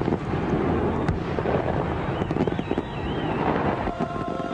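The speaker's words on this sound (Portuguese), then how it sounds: "Fogos de artifício." Fireworks going off in a dense, rumbling wash, with scattered sharp cracks and bursts over steady wind-like noise.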